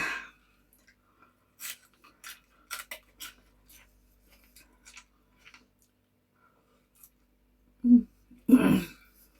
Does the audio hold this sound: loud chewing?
yes